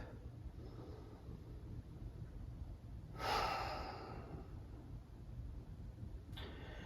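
A single deep breath during slow-flow yoga practice, one soft, airy inhale-exhale swell in a quiet room, faint and close, with a brief second rustle near the end and no talk.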